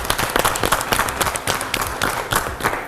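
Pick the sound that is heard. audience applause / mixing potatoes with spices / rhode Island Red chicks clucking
audience applause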